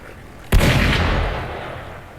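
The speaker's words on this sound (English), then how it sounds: "Gunfire! We've got intruders." A single sharp gunshot cracks out in a video game, its booming tail decaying over the next second or so with no speech around it.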